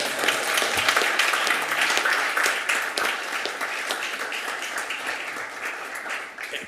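Audience at a Costa Mesa city council meeting breaks into sustained applause, a dense, loud wash of many hands clapping that holds steady and eases slightly toward the end, with no voices over it.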